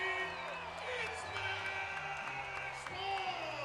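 Crowd cheering and roaring at an NCAA women's volleyball regional semifinal between Kentucky and Cal Poly, a steady dense arena din lasting throughout, with a commentator talking over it.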